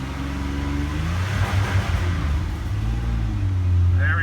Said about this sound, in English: Let's rev it up now.